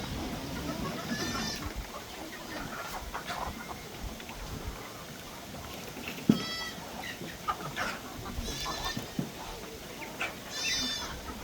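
Thin, wavering bleats of a young goat kid calling for its mother sound several times over a busy farmyard background, with clucking and other animal noises mixed in.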